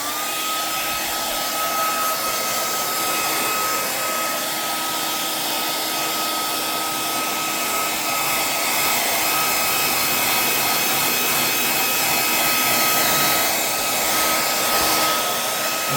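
A hair dryer blows steadily on a piece of wood being dried, a continuous loud whooshing roar with a faint high whine, unbroken for the whole stretch with no talking.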